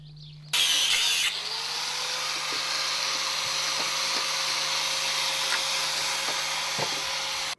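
A power tool starts up abruptly and then runs in one long, loud, steady whine as it cuts through an old metal hinge pin, with small clicks and knocks from the work scattered through the run.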